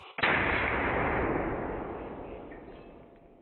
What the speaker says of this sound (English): You can see the Hornady 300 grain FTX bullet drill this hog.